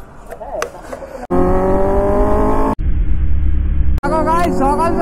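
Kawasaki ZX-10R motorcycle ridden on a rough road, its engine loud and close with sustained droning and revving in abrupt segments, and a voice talking over it.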